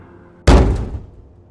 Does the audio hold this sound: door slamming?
yes